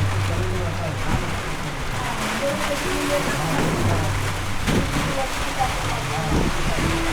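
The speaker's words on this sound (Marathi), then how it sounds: "आता बाहेर आता जोरदार पाऊस झाला" Steady broadband hiss of heavy monsoon rain pouring down in a Konkan village, with a low hum and a few faint voices mixed in the background.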